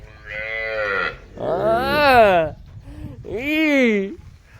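A cow moos three times up close, loud drawn-out bellows with short pauses between them.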